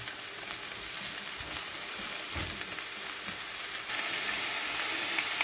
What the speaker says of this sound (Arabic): كنبدا نحرك هاد البصله هادي حتى بدات تهبط ليا